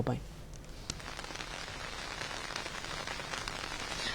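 Kalbaisakhi storm rain in Bhubaneswar, Odisha, a dense continuous patter of drops on surfaces, with a sharp crack at the start and a voice talking over it.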